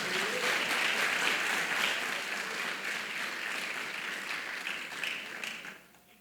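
A congregation at a church seminar claps in a full, dense round of applause that holds steady, then fades out near the end.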